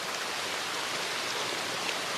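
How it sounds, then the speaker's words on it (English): Waterfall sound effect played in FMOD audio middleware: a steady, dense rushing wash of falling water, even and continuous with no breaks, at moderate level and heard alone. "So if I play this like waterfall sound, get closer to it, you get closer to it."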